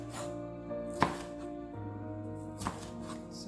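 A knife cutting bell peppers on a board, two distinct chops about a second and a half apart over a low background hum, with no speech.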